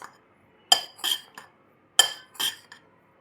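A spoon scrapes and clinks against a bowl while milk powder is stirred into a talbina premix: two groups of three sharp metallic strokes, close and crisp, with quiet gaps between.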